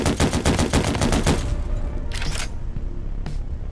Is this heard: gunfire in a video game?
yes